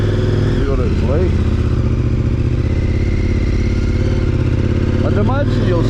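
A KTM motorcycle engine runs, recorded close from a helmet-mounted camera under a foam cover. It makes a loud, constant droning hum, with brief rising revs near the start and again toward the end.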